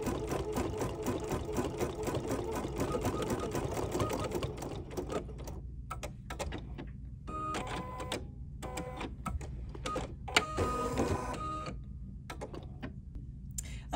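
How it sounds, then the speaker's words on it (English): Embroidery machine satin-stitching a fringe on an appliqué block, a fast steady mechanical whir that later breaks into start-stop bursts of stitching, heard up close without talk. "So as we look down here, we can see that it's doing this like severe satin stitching like that."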